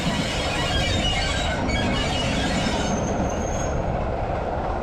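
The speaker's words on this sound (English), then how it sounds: "that's the same train we just saw coming in a minute ago" Passenger train at an old station platform in Brechin, Scotland, rumbling steadily throughout with rail and wheel noise, a faint high squeal rising near the end, loud and close with no talk.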